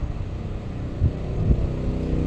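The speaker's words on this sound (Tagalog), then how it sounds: "Maingay ang mga motorsiklo nak" A low motor drone with a couple of thuds, like motorcycles rumbling past at moderate distance.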